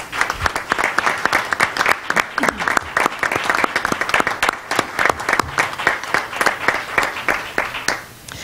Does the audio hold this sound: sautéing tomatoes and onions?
no